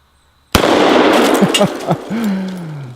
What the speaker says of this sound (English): we're firing 2 230 grain bullets every time we pull the trigger